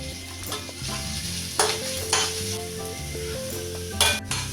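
Onion and grated carrot sautéing in a pan for rava idli, a steady close sizzle with several louder scraping stirs, over faint background music.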